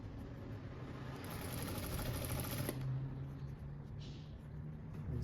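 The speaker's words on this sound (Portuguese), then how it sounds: "Vocês vão costurar até o final." Sewing machine stitching a seam on a backpack, a steady continuous mechanical whir running through the whole stretch at moderate level with a brief pause near the middle, no talking over it.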